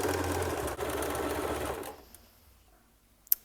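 A sewing machine stitching and backstitching a fabric seam hums steadily and fairly close, then stops abruptly, leaving quiet with a sharp click near the end.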